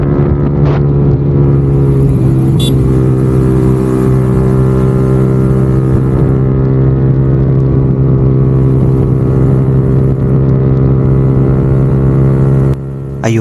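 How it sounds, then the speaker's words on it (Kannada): A motorcycle fitted with an aftermarket exhaust runs at high throttle, giving a loud, close, steady droning engine note that stays constant for the whole stretch. "ಆದರೂ ಒಂದು ಸೇಫ್ ಸ್ಟ್ರೆಚ್ ಸಿಕ್ಕೋ ತಕ್ಷಣ ಸ್ವಲ್ಪ ಥ್ರಾಟಲ್ ಕೊಟ್ಟೆ ನೋಡಿ."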